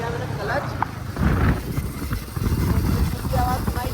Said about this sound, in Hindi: इस बाइक की ना आवाज़ मैं आपको सुनाता हूँ यार।